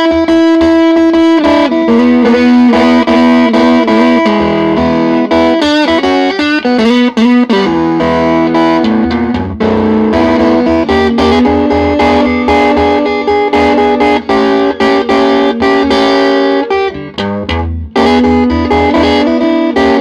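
Electric blues guitar played through a Grammatico Kingsville amplifier turned up to 9, loud and distorted, with sustained notes and chords running continuously for the whole stretch without talk.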